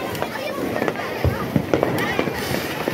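Diwali fireworks and firecrackers burst in a series of sharp pops and thuds over a steady crackling, fizzing background, with people talking and calling out nearby.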